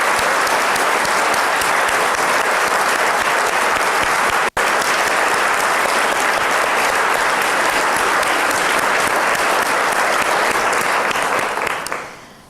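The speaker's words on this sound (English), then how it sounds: "there's some of you in this room, and I just want to give you an applause." A gala audience claps at length, loud and dense applause that fills the room with a brief cut near the middle and fades out at the end.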